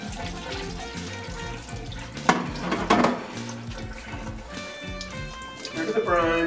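Brine drains from poultry breast into a colander for smoked jerky, running and splashing in two louder bursts with dripping between, as a voice talks over it.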